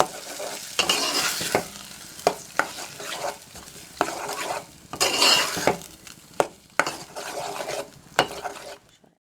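Eggs frying in a pan for noodles are stirred with a utensil, giving repeated scraping and clinking strokes over a soft sizzle, close and fairly loud with short pauses between movements.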